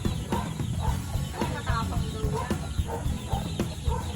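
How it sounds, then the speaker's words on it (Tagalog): A native chicken clucks and squawks in agitated bursts while being chased and caught outdoors, close to the microphone, with scuffling and a voice or two calling out in the background. "Manghuli sila ng manok,"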